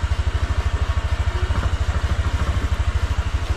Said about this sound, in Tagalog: dapat pala pagka kina-charge nyo, umandar yung makina ng motor ninyo